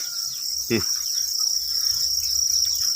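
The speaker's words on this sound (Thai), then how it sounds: "พามาเบิง ฟาร์มจิ้งหรีด" Crickets on a cricket farm chirp in a steady, shrill, high-pitched drone that carries on without pause, with a brief low voice-like sound near the start.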